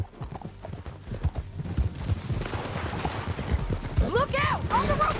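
Hooves pound in a galloping rhythm from a horse in Red Dead Redemption 2, the clip-clop thudding continuously under intermittent shouting voices, with a horse's whinny rising near the end.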